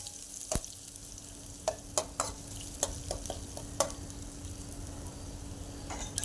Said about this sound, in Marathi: आता कांदा देखील व्यवस्थित असा मिक्स करून घेऊयात.